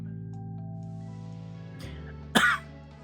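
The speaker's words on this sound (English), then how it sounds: "Random cough is random." A single short cough from a game character in an interactive story, one sharp burst near the end over a sustained musical background.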